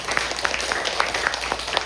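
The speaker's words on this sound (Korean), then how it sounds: "우리 한번 서로를 위해 박수하겠습니다." A church congregation applauds during a Sunday worship service, a steady patter of many hands clapping at moderate volume with no voices over it.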